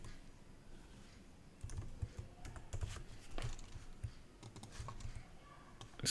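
Quiet typing on a computer keyboard: irregular bursts of soft key clicks, close and faint, with brief pauses between runs of keystrokes.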